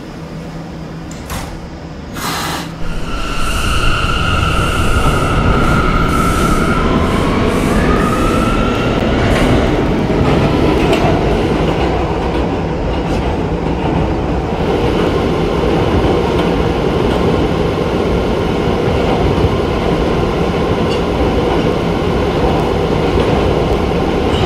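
An R179 D subway train in the Roblox game PTA Subway runs steadily and loudly, its continuous rail rumble and motor whine swelling after a brief door sound at the start and holding for the rest of the ride.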